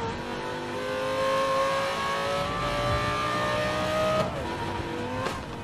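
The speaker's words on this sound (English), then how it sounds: "Oh, wait a second. That was a Ford Focus." A race car engine in Need For Speed: Most Wanted (2012) holds a steady high drone that rises in pitch, with faint tire noise and a sharp shift near the end, all at moderate level with no talk.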